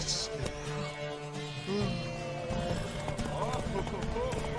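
Hooves clip-clop in a fast rhythmic gallop during a horse race in The Witcher 3 video game, heard under game dialogue and background music.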